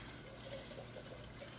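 Water being poured into a cooking pot holding corn and tomato sauce, a steady close trickle and splash throughout with no talking.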